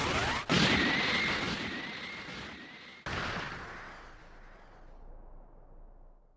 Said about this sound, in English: Special Beam Cannon!